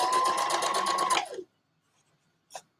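A sewing machine stitching dress fabric runs in a fast, even rhythmic whir for over a second, then stops abruptly, followed by a brief soft click.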